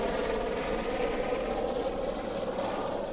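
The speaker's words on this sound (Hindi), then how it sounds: "ये जो मेरे सामने आप ये देख रहे हो ना, हेलीकॉप्टर उड़ता हुआ" A helicopter flying between Badrinath and Kedarnath near Devariyatal lake in the Himalayas, giving a steady, continuous engine and rotor drone at moderate distance with no break in the sound.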